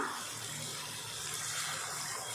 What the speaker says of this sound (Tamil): இப்போ இதில் தண்ணி சேர்த்துடலாம்